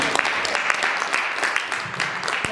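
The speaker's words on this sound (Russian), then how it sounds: "а мы аплодируем" An audience applauds continuously at a poster presentation event, a dense, even wash of clapping with a few sharper individual claps standing out.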